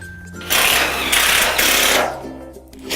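A power driver running screws into the steel mid rails of an Absco double roller garage shed frame, two or three loud close whirring bursts of about half a second each, no talk.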